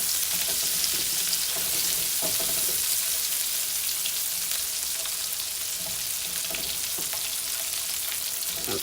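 Onions frying and caramelizing in a pan for garlic wine pork chops, a steady close hiss of sizzling with occasional stirring scrapes throughout, no talking.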